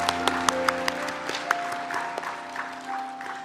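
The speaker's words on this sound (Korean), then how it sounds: "우리 자리에 계신 하나님께 감사와 영광의 박수 올려드리겠습니다" A congregation claps during a Korean Sunday church service, with scattered sharp claps at first giving way to softer, thinner applause over a sustained instrumental tone in the background.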